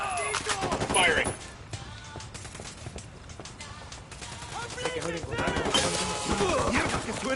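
Gunfire in the video game Ghost Recon Wildlands, bursts of shots crackling through a busy, loud battle mix with voices talking over it throughout.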